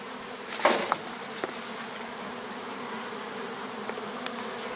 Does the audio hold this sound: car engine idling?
no